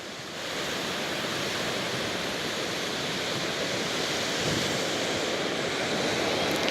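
Sea waves and wind at Phala beach on Thailand's eastern Gulf coast after a storm, a steady loud wash of surf with wind rushing across the microphone, continuous and unbroken.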